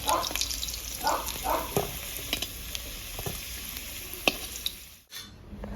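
Potatoes fry in hot oil in a pan while cooking outdoors, giving a soft continuous sizzle broken by scraping stirs and utensil clicks, with a sharp clack and brief hush near the end.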